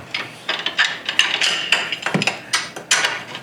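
Rapid metallic clicking bursts from a hand ratchet working a tight rear lower A-arm bolt on a Polaris RZR, in repeated short strokes close up with no talk.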